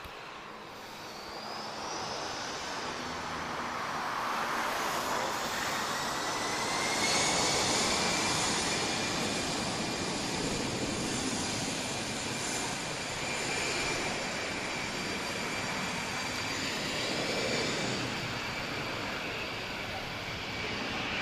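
A TAP Airbus A319 with uprated engines rated at 23,500 pounds of static thrust spools up for takeoff at Lisbon Airport, a distant broad jet roar that swells and fades over about twenty seconds.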